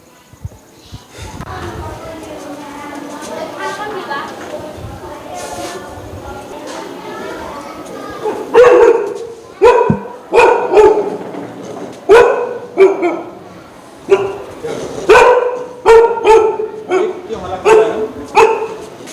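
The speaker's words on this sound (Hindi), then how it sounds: "स्कूल में कुत्ता, बच्चे हैं, काट लेगा।" A dog barks repeatedly inside a government school, loud sharp barks in quick irregular bursts mixed with yips, interleaved with people talking nearby.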